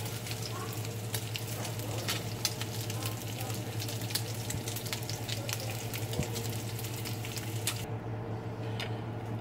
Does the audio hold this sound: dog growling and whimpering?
no